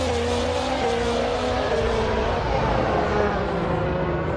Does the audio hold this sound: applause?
no